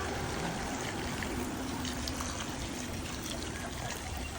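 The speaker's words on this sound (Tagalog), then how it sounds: "Lagyan natin ng tubig." Steady running water pours continuously into a cooking pot of Filipino chicken tinola with chayote, a soft splashing trickle that holds level for several seconds with no voices.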